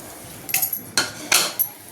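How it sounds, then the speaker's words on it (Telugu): Chopped onion pieces scraped into a metal kadai for an old-style onion curry, giving several quick clinks and clatters of utensil on pan in short bursts, close and fairly loud. "ఇప్పుడు ఈ ముక్కలు ఇలా బాండీలు వేసుకుందాము"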